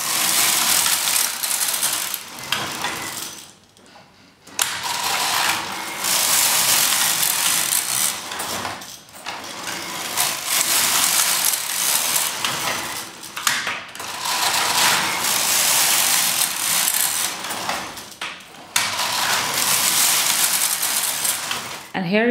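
A Knitic open-source knitting machine knits a pattern with contrast yarn, its carriage sweeping back and forth in long rattling, clicking passes with short pauses between rows, while a voice talks over it now and then.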